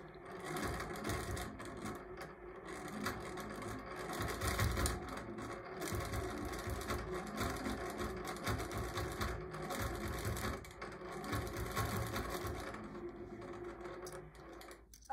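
A longarm quilting machine stitching on a quilt binding, steady rapid mechanical needle rattle running continuously and close, with no voices.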